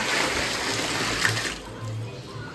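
Water pours into a container with a continuous splashing rush that thins out and softens toward the end, with faint low rumbles underneath.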